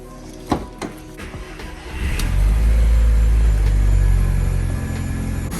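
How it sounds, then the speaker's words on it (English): A few clicks and a short crank, then an Audi TT engine catches and settles into a steady, rumbling idle nearby in a garage. "We're gonna start it up and see how it drives now."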